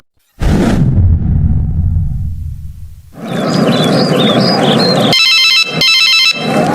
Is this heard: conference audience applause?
no